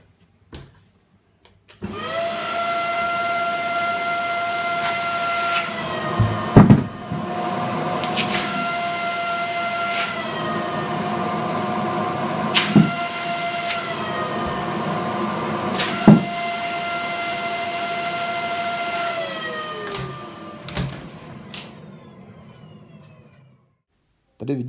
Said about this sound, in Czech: Tady vidíte, jak je sud zdeformovaný, pokud se hlavice vysavače někde přicpe nebo omylem přemáčkne víc k zemi